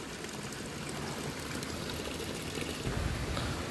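A stream of spring water flows steadily and close by, a continuous broadband rush and trickle with no pauses and no voices.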